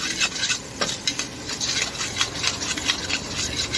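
Street food stirred and mixed in a pan over wood or charcoal, with close, repeated scraping and clinking of a utensil against metal in an uneven rhythm over a soft sizzle.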